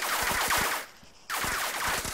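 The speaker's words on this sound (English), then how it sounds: "bullets are coming from the sky, you see that?" Dense automatic gunfire from an Arma 3 battle on Stratis, bursts loud and rapid for most of the stretch, briefly dropping to a quieter lull before the firing resumes at full intensity.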